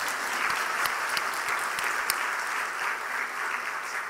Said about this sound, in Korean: 다시 한번 뜨겁게 박수하십시다